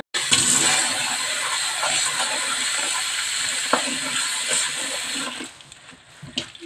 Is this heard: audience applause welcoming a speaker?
no